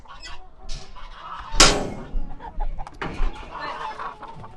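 Chickens on a farm cluck in short irregular bursts, with one louder squawk partway through and a few fainter calls around it.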